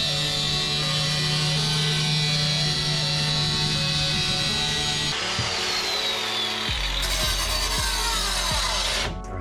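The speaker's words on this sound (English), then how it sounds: "then we'll get the angle grinder in here, and we'll just do some nice trimming" An angle grinder trimming a boat hull during a budget rebuild, a loud steady whine and grinding roar throughout that shifts in pitch as the cut changes near the end.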